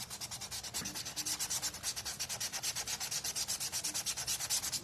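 Rhythmic hand sanding of a wooden flamingo craft piece, close and steady, with quick repeated back-and-forth rubbing strokes throughout and no talking.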